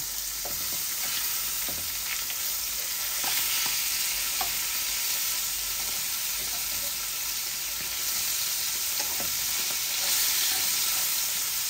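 A fish head fries in a pan, a steady close crackling sizzle running throughout with faint scraping stirs now and then, no voices.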